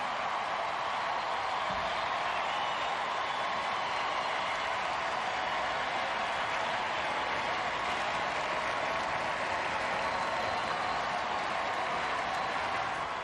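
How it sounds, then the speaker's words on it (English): Obama supporters fill a large election-night crowd with sustained cheering and dense applause, a steady roar that neither swells nor fades, with no single voice standing out. "You see the cheering there as Obama supporters are cheering"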